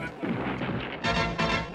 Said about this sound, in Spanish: ¡Qué buen disparo, amigos!